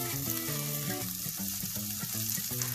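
Boiled potatoes sizzle and fry steadily in a pan for sabudana khichdi, with a constant crackle close by and no talk.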